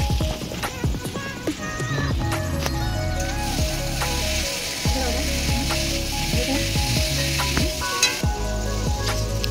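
Loud, dense sizzle of potatoes frying in hot oil, with clattering scrapes and knocks of a utensil against the pan throughout and a clanging rhythm in the background; no speech.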